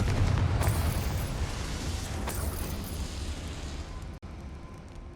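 Confringo spell blast in Hogwarts Legacy: a heavy low boom that fades into a rumbling tail with sharp crackles, then cuts briefly to near silence before the noise resumes.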